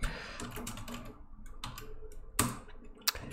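Terminal commands typed on a computer keyboard: quiet, close, irregular key clicks in short bursts, with a sharper keystroke or two near the end.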